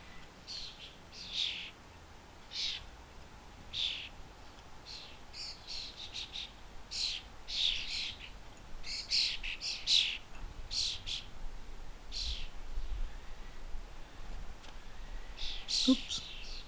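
Young starlings calling in a garden, a series of sharp, scratchy chirps and squawks repeating irregularly at moderate distance over a quiet outdoor background.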